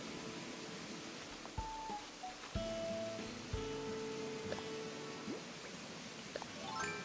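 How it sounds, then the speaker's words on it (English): Steady broadband rushing roar of a loud waterfall in the video game Animal Crossing: New Horizons, filling the background continuously, with a few soft tonal game chimes and blips layered over it. "This waterfall is very loud."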